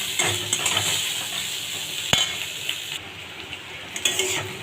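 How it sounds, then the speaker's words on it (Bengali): Onion rings frying lightly in a pan for egg curry, a continuous close hiss with occasional scrapes and clinks of a utensil. "পেঁয়াজটা বেশি ভাজবো না,"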